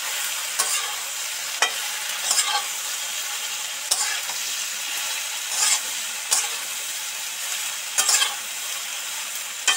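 Soybean chunks and potatoes fry in a thick-bottomed kadai with a steady, close sizzle, broken every second or two by brighter scraping stirs of the spatula; no voices.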